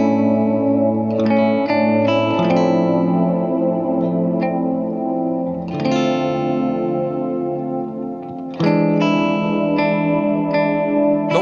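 Electric guitar played through a dual overdrive pedal with gentle reverb, sustained chords and picked notes ringing out in lush, softly echoing tails, loud and close with no talking.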